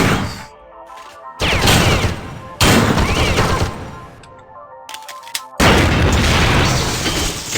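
A pistol loaded with armor-piercing rounds fires in System Shock 2: three loud, abrupt booming shots land a second or more apart, each with a short ringing tail over a quieter game ambience.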